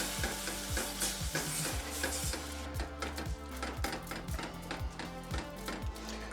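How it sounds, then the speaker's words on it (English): A spoon stirs milk into a roux in a pan, rhythmic scraping strokes over a soft bubbling sizzle, close and fairly quiet, with no talking. "Give that a stir."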